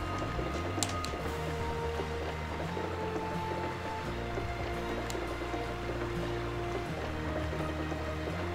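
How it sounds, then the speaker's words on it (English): Steady rushing of a waterfall in the video game Arc the Lad: Twilight of the Spirits, a constant moderate wash of flowing water with faint tonal game music underneath and no talk. "You're fishing in a waterfall."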